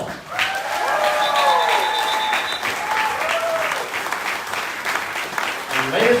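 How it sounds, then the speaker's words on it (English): Audience applause at a political event announcing a gubernatorial candidacy, a dense steady clapping from a crowd, while a voice rings out over it with drawn tones and other voices mix in near the end. "May I recognize a round of applause"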